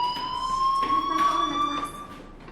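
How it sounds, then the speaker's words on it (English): A fire alarm rings in the video game Life Is Strange: a steady, piercing electronic tone that holds without a break for the whole stretch, loud and close, with no other sound over it. "do you hear that fire alarm?"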